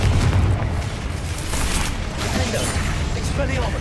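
Confringo blasting-spell explosions in Hogwarts Legacy, heavy rumbling booms and crackling bursts, dense and loud throughout with no pause.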